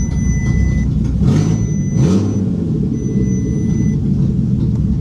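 A Bentley Continental GT with refitted drive shafts rumbles low and steady as it starts to move off, the engine note swelling briefly near the middle, close by and with no talk.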